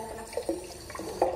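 Water runs from a household tap with a partly clogged filter in a new house in Guimaras, Philippines: a short, uneven splashing stream with a few brighter gurgling surges, fairly close and moderately quiet.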